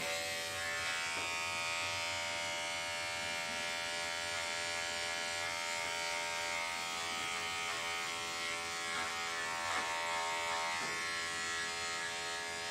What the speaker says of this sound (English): holding the chin up while I actually shave her chin